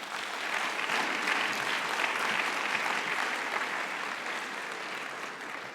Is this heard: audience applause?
yes